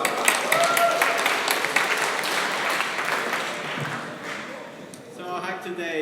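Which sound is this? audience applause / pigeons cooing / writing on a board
audience applause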